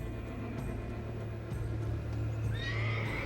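A horse whinnies in The Witcher 3 video game, a bright rising neigh near the end over a low ambient game background with faint hoof thuds.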